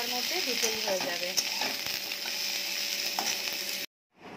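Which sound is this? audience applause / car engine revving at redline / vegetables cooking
vegetables cooking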